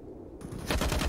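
Rapid bursts of AUG rifle fire in Counter-Strike, dense and loud, building into continuous automatic gunfire in the second half of the short clip.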